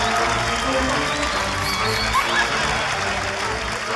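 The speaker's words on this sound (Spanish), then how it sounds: "Aplauso para nuestra modelo." A live audience applauds a model at a comedy show, with steady, dense clapping and crowd noise holding at an even level throughout.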